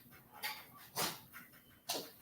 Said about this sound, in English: I know you'll see something and start barking.